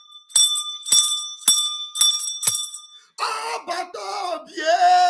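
A bell rings five times in quick, evenly spaced strikes, each bright and ringing briefly, followed by a stretch of talking voices after the last ring.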